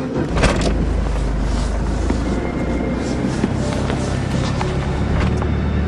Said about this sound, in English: Let me move that car.